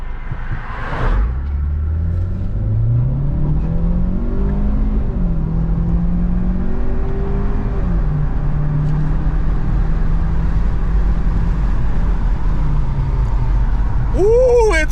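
A 5.0 Fox-body Ford Mustang engine revs hard and climbs in pitch, dropping briefly at each automatic gear shift before pulling up again, loud and close throughout.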